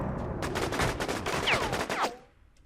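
Rapid gunfire in WarZ, a fast burst of automatic shots in a steady rhythm, loud and close, ending with a whizzing ricochet-like sweep before fading out.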